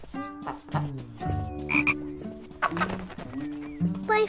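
A cartoon frog croaks in a run of deep, tonal, bouncy calls, several close together with short gaps, loud and near, with no speech over them.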